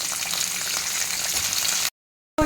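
Pumpkin pieces with their skin on fry in hot oil with chillies and curry leaves for a South Indian vathal kuzhambu. A loud, steady sizzle runs unbroken and then cuts off abruptly near the end.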